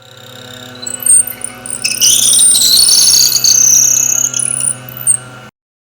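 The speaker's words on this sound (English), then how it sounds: "I decided to just swap to a drill bit instead. This cut a good bit better, but it sounded pretty bad." A drill bit bores holes through a steel dagger blank, giving off a harsh, shrill squeal that rises after a couple of seconds and holds, wavering, for several more over a constant low electrical hum.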